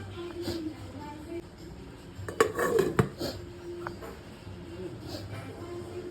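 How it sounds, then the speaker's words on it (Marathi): Pot lid set onto a cooking pot of ghee pulao, a few close metallic clatters and clanks midway over a quiet kitchen background, with no talking. "आता आपण ह्याला झाकण लावून ठेवून देऊया शिजायला"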